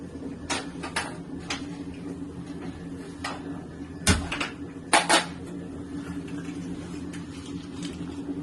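A kitchen vessel is handled to take water for a homemade decoction, with a few sharp metallic clinks and knocks scattered over a quiet background hum.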